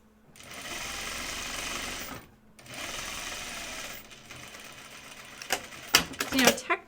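A sewing machine stitches a French seam in two steady, humming runs separated by a short pause. Louder clattering and handling noises follow near the end.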